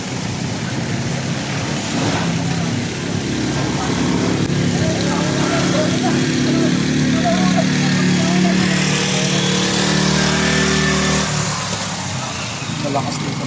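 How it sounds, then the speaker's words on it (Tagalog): A loud engine runs steadily at a pumping station near a bridge, its heavy low rumble filling the whole stretch continuously, with people talking over it. "Malakas dito makina."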